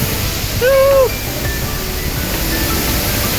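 Steady, loud rushing of a waterfall fills the scene as a continuous roar, with a short voice-like tone rising briefly above it.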